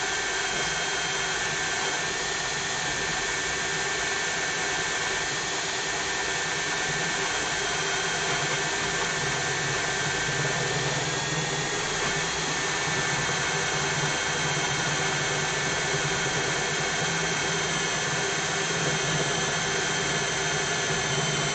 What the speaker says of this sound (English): Step bit does make pretty quick work.